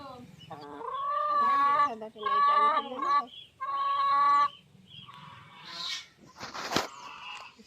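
A hen about a year old, kept in a village yard, gives broken clucking calls in several bursts. Rougher rustling follows near the end.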